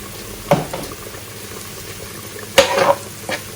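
Prawns dropped into a hot pot while cooking shrimp for Alfredo pasta, giving two brief bursts of sizzling and frying with stirring between them, close and fairly loud, with no talking.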